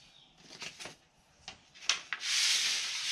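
Pencil or marker scratching short marks on wrapping paper beside a ruler, a few brief rubbing strokes followed by a longer, louder scraping sweep, close up with no talk.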